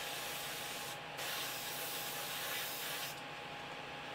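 Airbrush spraying gloss coat gives a soft, steady hissing spray, quiet and close, with two brief pauses in the flow.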